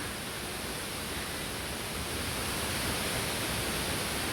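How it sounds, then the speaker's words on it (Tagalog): Mantayupan Falls in Cebu, the island's tallest waterfall, roaring as a steady, dense broadband rush with no breaks, loud and continuous. "makikita na natin yung Mantayupan Falls, ang pinakamataas sa Cebu na falls"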